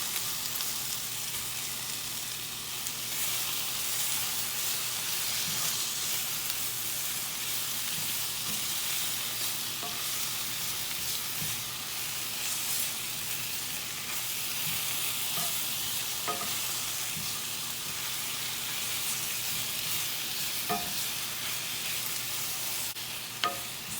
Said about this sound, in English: And then I just added 2 huge handfuls of spinach. You always want to use more spinach than what you think you're going to need because it wilts down so much. Let me give that a stir.